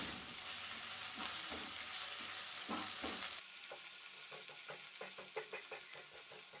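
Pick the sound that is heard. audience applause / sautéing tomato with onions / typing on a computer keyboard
sautéing tomato with onions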